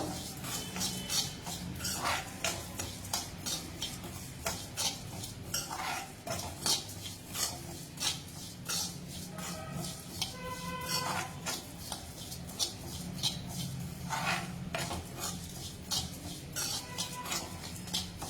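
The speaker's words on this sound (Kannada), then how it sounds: "ಚೆನ್ನಾಗಿ ಹುರ್ಕೋಬೇಕು, ಇದನ್ನು ಡ್ರೈ ರೋಸ್ಟ್ ಮಾಡಬೇಕು." Dried coconut is dry-roasted in a pan and stirred throughout, producing steady repeated scraping and light metallic clinks of the utensil against the pan, quiet and close, with no talking.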